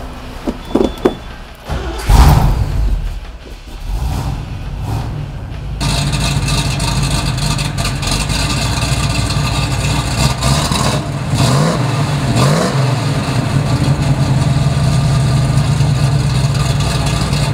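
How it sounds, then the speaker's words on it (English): A 1969 Chevrolet Camaro SS396 with a 375-horsepower 396 V8 cranks over and catches at about six seconds, then idles with a loud, steady rumble, swelling in several throttle blips and revs near the end. "How about I fire it up for you and you can really hear how it sounds."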